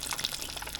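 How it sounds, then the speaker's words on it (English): A fish fillet fries in hot oil for a fish sandwich, giving a brief, close, busy crackle and bubbling sizzle with no voices. "we're going to just let this continue bubbling away"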